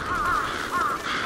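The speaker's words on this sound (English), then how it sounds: "Crows. That's a lot of crows!" Crows caw repeatedly in Bloodstained: Ritual of the Night, a rhythmic series of harsh calls over a dense ambient game background.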